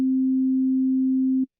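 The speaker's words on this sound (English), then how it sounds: "here I have a sine wave again" A synthesizer oscillator sounds a pure, steady low sine tone, loud and unwavering, holding for about one and a half seconds before cutting off abruptly.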